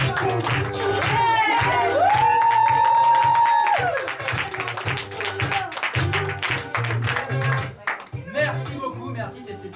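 A comedy club audience applauds and cheers a stand-up comedian, loud steady clapping with a few whoops, as someone speaks over it at length and the clapping continues underneath his voice.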